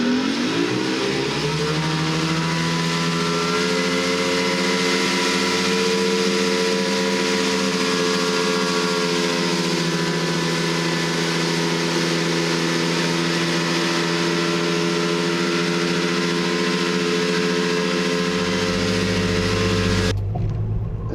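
An Evinrude E-TEC G2 300 hp HO two-stroke outboard motor under throttle, a loud, steady high-revving drone with rising harmonics that holds for about twenty seconds before cutting to a lower rumble.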